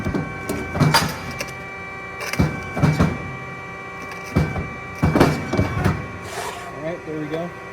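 An Amada CSHW 220 corner notcher strikes metal stock in a series of sharp clanking cuts at uneven intervals, with a mechanical hum running beneath and a faint voice near the end.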